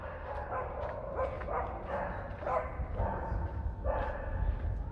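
A dog on a quiet snowy street in Östermalm, Stockholm, barks repeatedly in short bursts at moderate distance, the barks spaced irregularly over a steady outdoor rumble.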